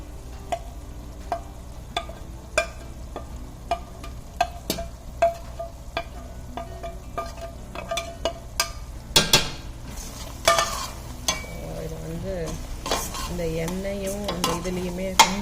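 A soft sizzle of chilli powder, turmeric and coriander frying in oil for vatha kuzhambu runs throughout, punctuated by scattered clinks and scrapes of a spoon stirring in a metal pan.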